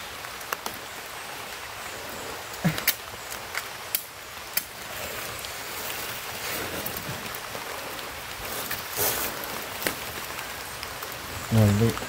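Heavy rain pours steadily on a hillside road beside a parked motorbike, a dense hiss running throughout with a few sharper knocks and taps, and a brief voice near the end.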